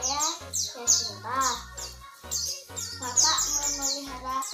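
Pet songbirds, including a pair of ciblek birds, a canary and another caged bird, chirp and trill in quick bright bursts close by at a home, with people talking underneath.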